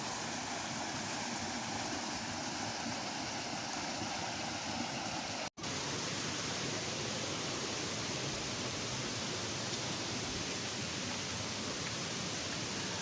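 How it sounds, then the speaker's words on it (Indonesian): A small, clear river stream flows along a hiking trail toward Kawah Ratu via Pasir Reungit, a constant rushing, hissing wash of water close by, broken by one brief dropout partway through. "Kita melewatin aliran sungai yang tidak begitu besar ya"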